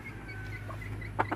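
Two short clucks from a chicken, one of the hens kept here, sound near the end over a steady low hum, fairly quiet and with no one talking.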